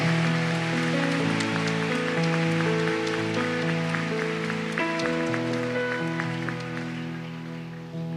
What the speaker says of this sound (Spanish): Hoy dale un aplauso al Rey bendito.